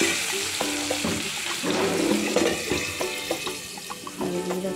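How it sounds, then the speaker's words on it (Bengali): Cut potatoes with salt and turmeric fry in a covered pan, a soft, continuous sizzle and watery bubbling close by, low and steady with small crackles. "তারপরে দিয়ে দিলাম আলু কাটা দিয়ে নুন হলুদ দিয়ে ঢেকে দেবো যাতে তাড়াতাড়ি ভাজা হয়ে যায়।"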